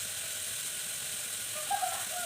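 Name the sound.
onions sautéing in a pan for kurma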